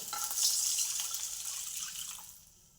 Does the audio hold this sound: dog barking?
no